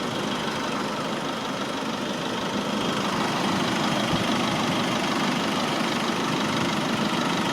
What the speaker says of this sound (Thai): อันนี้เบิ้งเครื่องแห่งฟังนี่เลย